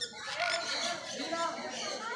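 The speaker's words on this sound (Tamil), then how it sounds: "இந்த அழகான சன்கோனியோர் என்னுடன் பேசுவது போல் தொடர்ந்து சத்தம்" A sun conure parrot gives rapid, harsh squawking calls close by, a continuous burst of chattering screeches lasting a couple of seconds.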